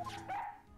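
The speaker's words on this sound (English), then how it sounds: "Cute dog." A cartoon dog in the Phoenix Wright: Ace Attorney video game gives a short, bright bark or yip, a quick electronic chirp that rises and fades within a second, with no speech.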